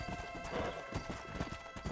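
Rapid clip-clopping hoofbeats of a galloping horse in the Red Dead Redemption video game, steady and close over a dense game soundscape, with a faint whinny.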